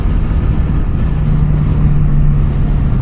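Kawasaki Z900 RS Cafe motorcycle engine droning steadily under engine braking on a downhill mountain road in Kings Canyon, loud and close with heavy wind rush, no talk.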